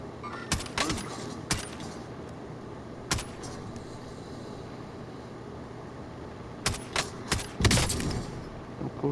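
Scattered gunshots in Call of Duty: Modern Warfare Warzone, single cracks and short bursts of varying distance spread across a steady ambient game background, loudest near the end.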